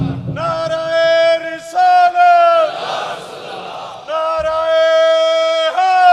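A large gathering at a Muharram majlis in a main bazaar answers a leader's Islamic slogan calls with loud, unified chanted responses, sustained shouted vowels alternating with a brief noisy cheer between calls.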